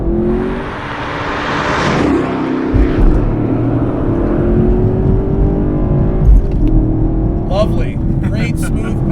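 A 2017 Chevrolet Camaro SS 1LE accelerates hard, its engine note rising through a long pull with a gear change, heard from inside the cabin under occupants' talk.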